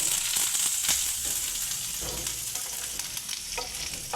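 Cashews, raisins and curry leaves frying in hot oil, giving a loud, dense, continuous sizzle with brief stirring scrapes throughout.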